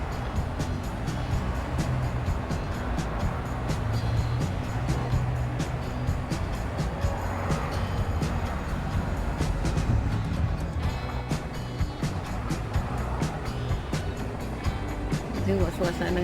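Cars passing on a street in front of a house in Melbourne, a continuous near traffic rumble with swelling passes under steady talk.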